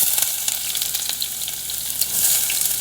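Ginger and garlic sizzle in a very hot pan for chicken soup, a dense, lively crackle and spatter with sharp pops scattered throughout at close range.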